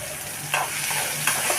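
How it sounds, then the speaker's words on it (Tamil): Chopped onions with a pinch of salt sauté in a pan over a steady, close sizzle, with a few distinct scraping stirs of a spatula breaking through. "நல்லா வதக்கி விடணும்."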